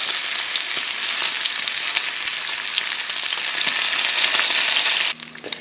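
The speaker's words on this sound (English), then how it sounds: "we're going to fry up our bacon here" Bacon fries in a pan, a steady loud crackling sizzle that runs without pause for most of the span, then drops away abruptly near the end.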